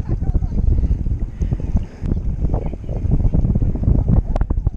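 A small boat being towed across open water, with a loud continuous rumble of hull and water buffeted by wind noise on the microphone, and people's voices mixed in.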